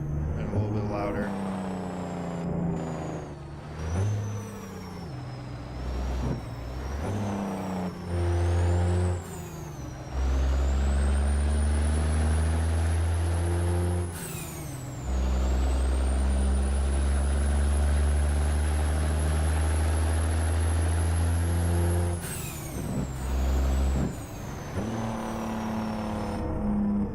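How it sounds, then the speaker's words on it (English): A loud Caterpillar truck engine in American Truck Simulator revs and drones, breaking into a deep, rapid staccato of jake braking, rising and falling over about half a minute with no voices. "the jake brake could be a little bit better and a little bit louder."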